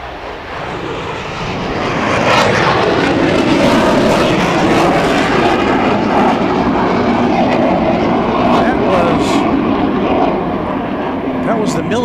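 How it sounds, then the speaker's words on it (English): A military jet takes off at Dallas Love Field airport at night, its broad, loud engine roar building over a couple of seconds and holding steady throughout, with a voice talking faintly beneath it. "That was the military jet taking off."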